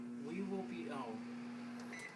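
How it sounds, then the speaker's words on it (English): A kitchen microwave oven that was switched on by accident runs with a steady hum under close talk from a man, with a faint beep near the end. "I accidentally turned on the microwave."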